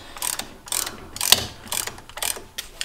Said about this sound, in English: And start ratcheting it back.